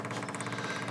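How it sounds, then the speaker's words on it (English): Car fuel pump running off a relay, a steady close-up electric whir with a fast pulsing flutter, held at a moderate level for the whole second. "That's our fuel pump running off the relay"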